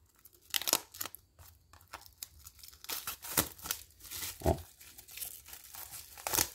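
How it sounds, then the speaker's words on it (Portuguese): Hands tear and crinkle the plastic packaging off a Panini Pokémon Ruby and Sapphire manga volume without a cutter, giving close, irregular rips and crumples in quick bursts. "O volume 3, eu quero abrir sem estilete para não danificar."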